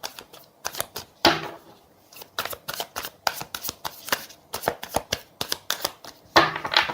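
Tarot cards riffled and shuffled at close range, a quick run of crisp flicks and slaps in irregular bursts, with no talking over them.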